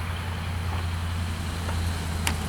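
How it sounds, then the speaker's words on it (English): Steady road traffic rumble with a heavy low-frequency drone from passing trucks and cars, continuous and fairly loud throughout, with a brief sharper sound near the end. "not sure how much you can pick up on the road traffic noise"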